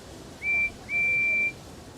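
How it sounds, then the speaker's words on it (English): A train whistle from the Thomas & Friends: Wonders of Sodor video game sounds twice, a short toot and then a longer steady blast, clear over a quiet rumbling background. "So if you get close enough and you sound the whistle,"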